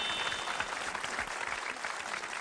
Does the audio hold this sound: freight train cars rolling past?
no